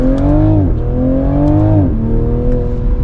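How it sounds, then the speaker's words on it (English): A 2024 Toyota Supra 3.0 Premium accelerating hard in sport mode, its engine note climbing steadily through two quick gear changes with brief exhaust pops at each shift, loud and close from inside the cabin. "it gives you those pops on the gear changes and when you're accelerating"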